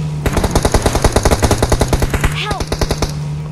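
Rapid automatic gunfire in a multiplayer video game with a Harley-Davidson biker gang theme, a fast bursting string of loud shots over a steady hum, with voices chattering briefly near the end.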